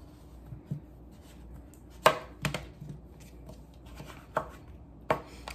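Butternut squash being chopped with a Pampered Chef knife on a cutting board, a handful of separate sharp thuds spaced irregularly over a quiet background.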